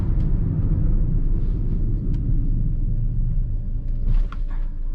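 Maruti Swift Dzire VXi 1.2 slowing under braking, a continuous low road-and-engine rumble heard from inside the cabin that dips briefly near the end, with no talk.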